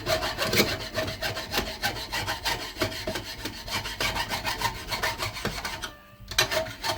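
A file rasps back and forth over banjo frets in quick, steady strokes, close up, with one brief pause before the scraping resumes.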